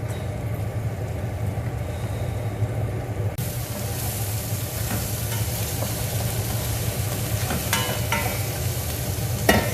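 Shrimp and carrots hiss and sizzle steadily in a hot pan, with a sudden louder burst of frying as ingredients go in, plus occasional scraping stir strokes; no talking.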